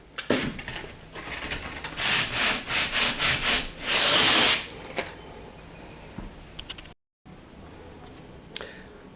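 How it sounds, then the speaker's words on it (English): Dried filler coat on drywall is sanded by hand in a run of rhythmic rubbing strokes, then one longer harder pass, followed by quieter scattered taps and a short silent gap. "I'll sand it off and put one last fine coat"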